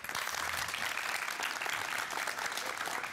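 Studio audience at a Turkish television talk show breaks into sustained, dense applause, steady and loud throughout with no voices over it.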